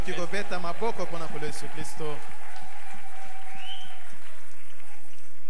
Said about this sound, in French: On peut acclamer pour le Seigneur Jésus.